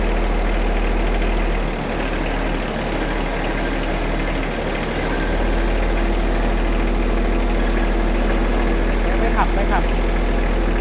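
An old three-cylinder tractor engine imported from Japan idles with a loud, steady, low rumble and vibration throughout, with voices faintly under the drone.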